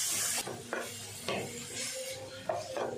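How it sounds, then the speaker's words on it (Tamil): Onions and tomatoes stirred and scraped in a pan with a soft sizzle underneath, spatula strokes and clinks coming every second or so. "வெங்காயம் தக்காளி நல்லா வதங்கணும் நல்லா வதக்கிக்கலாம்"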